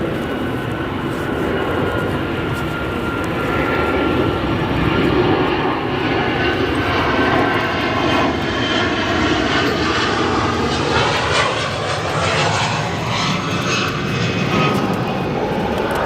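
A Boeing 777 rolls along a runway at O'Hare, its engines a broad, steady roar with a slowly shifting whine that swells gradually, close and loud throughout.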